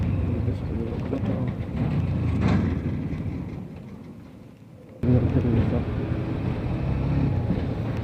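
A bus roars past close by on a highway during a Hero Xtreme 125R motorcycle ride, its loud rumble swelling and then fading under heavy wind buffeting on the rider's microphone.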